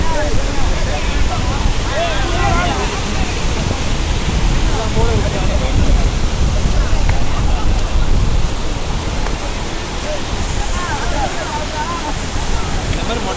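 Loud, constant roar of rushing water pouring over a dam, a broad unbroken wash with wind buffeting the microphone.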